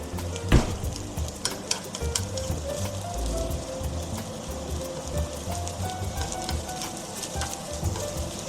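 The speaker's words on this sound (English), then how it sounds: "First, I'm going to fry the onions." Onions fry in a pan with a steady crackling sizzle, broken by occasional clinks and stirring scrapes, close and continuous, with ginger and garlic cooking nearby.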